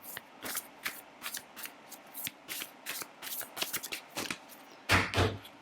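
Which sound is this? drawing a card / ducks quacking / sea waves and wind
drawing a card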